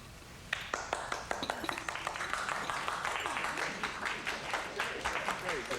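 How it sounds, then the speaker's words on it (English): An audience claps steadily, individual hand claps standing out near and crisp from a dense bed of applause that runs the whole stretch, with a voice speaking over it. "Everybody's clapping."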